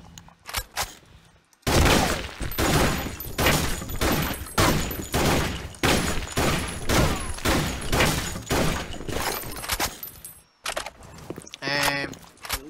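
A rifle in the shooter game Blackshot Online fires a rapid, sustained string of loud, punchy shots, with a few scattered single shots before and after.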